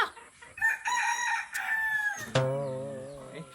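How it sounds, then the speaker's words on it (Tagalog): A rooster crows loudly nearby, a long wavering call followed by a second strong crow, with faint clucking around it. "Unwanted noise, yung manok, tumitilaok"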